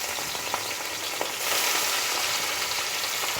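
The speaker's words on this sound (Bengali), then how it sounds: "এখন আমি দুইবারে মাছগুলোকে ভেজে নেব" Puti fish, coated in salt and turmeric, fry in hot oil in a kadai with a steady dense sizzle that swells louder midway, marked by a few sharp crackles and pops; no one speaks.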